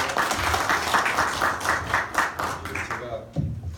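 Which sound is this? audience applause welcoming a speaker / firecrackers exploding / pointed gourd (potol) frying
audience applause welcoming a speaker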